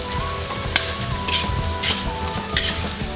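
Pork bistek stirred in a pan after a long covered simmer, a steady sizzle with periodic scraping strokes of the spoon, close and prominent.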